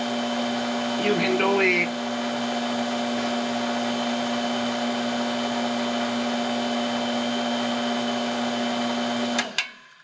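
A household water pump runs with a steady motor hum and whine to build pressure, someone briefly speaking over it, then the drone cuts off abruptly near the end.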